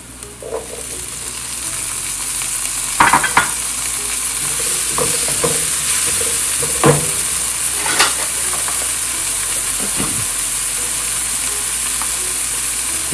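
Peas frying with browned onions in a pan: a steady sizzle runs throughout, broken by several scraping stirs of a spoon against the pan, close and fairly loud with no talking.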